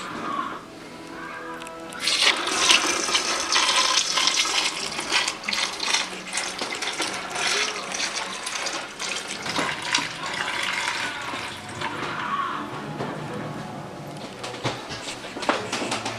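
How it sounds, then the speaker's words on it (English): Hot sweetened tea poured over ice for southern sweet tea, a steady splashing, trickling pour that runs for most of the stretch with clinking ice and small liquid gurgles, fairly close and with no talking. "we're going to pour it over some ice."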